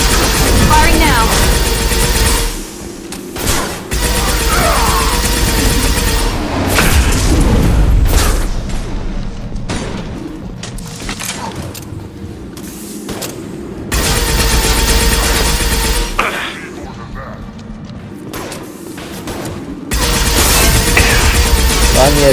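Weapon fire and heavy booming explosions in the Mass Effect Legendary Edition video game, loud repeated blasts and bursts of gunfire that come and go, with short quieter gaps between them.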